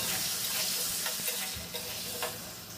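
Pumpkin and hilsa fish fry in a pan with salt and are stirred: a soft, steady sizzle with a few light scraping stirs, quiet and close, with no talking.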